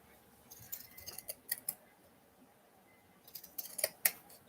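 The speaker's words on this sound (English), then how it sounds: "So I'm going to pink it around here" Pinking shears snip along the fabric edges of a small heart pillow, a quiet run of crisp, close cuts in two bursts separated by a pause.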